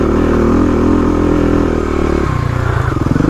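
A Stage 3 Kawasaki KLX351 dirt bike on off-road trails roars loud and close with a steady throbbing engine note, then drops into a choppier, lower rhythm as the throttle changes.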